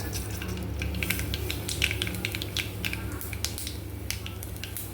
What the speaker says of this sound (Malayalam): വെളിച്ചെണ്ണ ചൂടാകുമ്പോൾ കടുക് ഇടുക